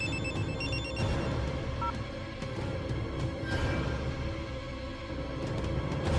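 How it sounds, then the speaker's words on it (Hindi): A telephone rings indoors in a house, a steady bell-like ringing running through the scene over low background noise. "माधव, फोन उठा।"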